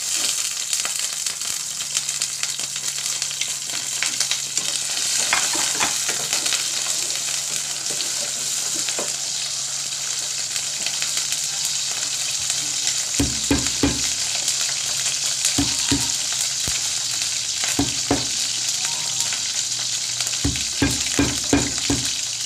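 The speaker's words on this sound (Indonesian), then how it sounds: "sekarang saya tumis bawang merah," Shallots and garlic sauté in a hot pan with oil, giving a steady loud sizzle and crackle throughout, broken later by several sharp scraping stirs.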